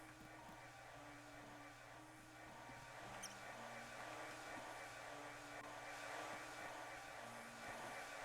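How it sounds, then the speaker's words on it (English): A steady, faint hair dryer from the video game The Spirit and the Mouse blows continuously with a constant whooshing hum and no voices. "It's the dude with the hairdryer"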